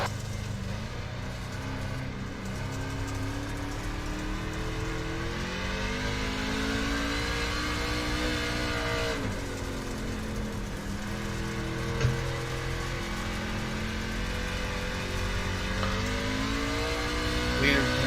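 Dirt track race car engine droning through practice laps, a steady mid-pitched roar with rising and falling revs as the car circles, heard from a moderate distance and continuous throughout.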